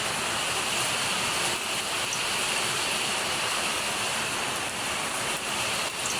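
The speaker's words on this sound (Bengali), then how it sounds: "বুঝতে পারছো বৃষ্টি পড়ছে যে" Heavy rain falls outside, a dense, continuous wash of hiss heard close and steady for the whole stretch, with no voices.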